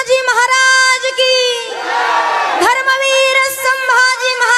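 A large crowd shouts back the reply to a slogan for Chhatrapati Shivaji Maharaj at a devotional kirtan gathering, a loud, sustained massed roar of voices with brief pauses and individual shouts.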